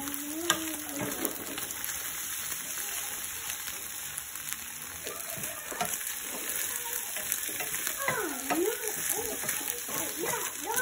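Food sizzles and fries steadily in a pan at breakfast time while it is stirred, a constant crackling hiss with occasional scraping, and voices talk quietly over it.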